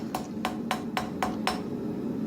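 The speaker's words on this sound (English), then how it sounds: "And just doing some final forging on the knife edge, trying to get that thing down to the thickness I like." Hammer blows forging the edge of a full tang steel knife: six sharp, ringing strikes at a steady, even rhythm, close and clear over a constant low forge hum.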